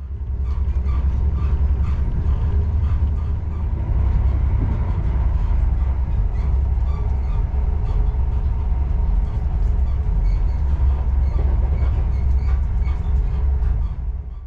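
An HST passenger train running along the Dawlish sea wall, heard from inside the carriage as a continuous deep rumble with steady rolling wheel noise and faint rhythmic rail clicks, loud and unbroken throughout.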